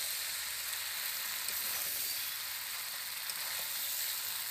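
Country chicken and potato pieces sautéed with spices on a clay stove give an even, unbroken sizzle at moderate volume, with a couple of faint clicks.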